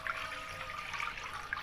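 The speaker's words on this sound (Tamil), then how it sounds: "நான் 500 மில்லிமீட்டர் தண்ணி சேர்த்துக்கிறேன்." About 500 ml of water pours into a pan on a kitchen stove for a karupatti kolukattai recipe, a steady, splashy rush of liquid throughout, moderately loud and without speech.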